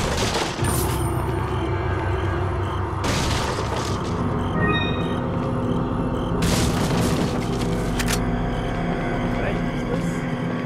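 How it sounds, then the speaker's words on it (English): A cannon fires in the Resident Evil 4 video game, loud booming blasts with heavy low rumble, several detonations spaced a few seconds apart over continuous game noise. "Cannon!"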